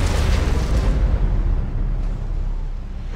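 A missile detonates in the real-time strategy game Command & Conquer: Rivals, a loud deep boom rolling out and slowly fading over a few seconds.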